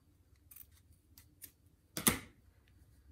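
Scissors snip through quilting fabric binding for a placemat pouch, a few light quiet clicks followed by one louder, sharp crunching cut near the close.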